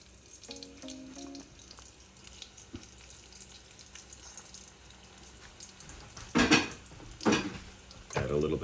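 Jamaican dumplings dropped into hot oil in a pan give a soft, steady sizzle, broken by a few short tonal squeaks early on and then louder scraping and clattering of a utensil against the pan toward the end.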